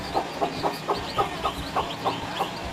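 A chick clucks and squawks when touched, in a steady series of short, sharp calls, about three per second, fairly close with light background noise.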